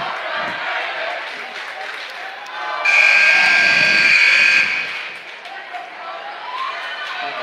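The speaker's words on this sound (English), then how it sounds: "the crowd chant's overrated to DeYoung" Crowd at a Grinnell versus Pella boys varsity high school basketball game chanting at a player, a loud rhythmic group chant that swells for about two seconds midway over a constant background of gym noise.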